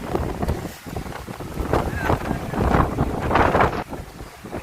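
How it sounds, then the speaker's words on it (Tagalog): Strong typhoon wind buffets the microphone in loud gusts over the rush of waves, with a voice talking underneath. "grabe ang lakas ng hangin, ang alon"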